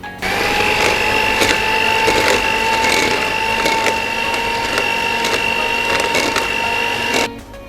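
A hand mixer whirs at a steady pitch while beating bakpia filling with icing sugar. The even motor drone runs for about seven seconds with light ticks of the beaters against the bowl, then cuts off abruptly.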